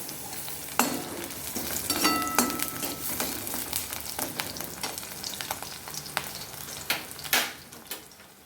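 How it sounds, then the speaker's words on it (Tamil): Green chillies and ginger frying in oil in a pan for mint chutney: a steady, dense sizzle with scraping stirs and occasional clinks of a spatula, close and continuous, with no talking. "இப்போ இஞ்சி நல்லா வதங்கிட்டுருக்கு"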